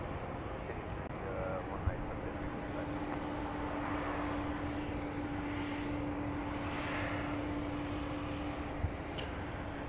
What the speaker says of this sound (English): Here's a flight coming in from Tucson, Arizona. 737-700.